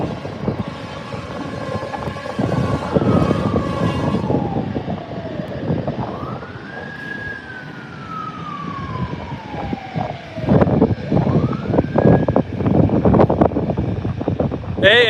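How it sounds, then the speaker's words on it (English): A fire engine siren wails in repeated rising and falling sweeps as it passes near San Diego airport, fairly loud over wind noise, with a voice speaking briefly. "I hear fire engine."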